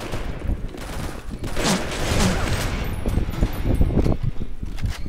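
Rapid video game gunfire in a Winter Land match, with a steady stream of dense shots and bursts running throughout at fairly loud, close level over a busy game background.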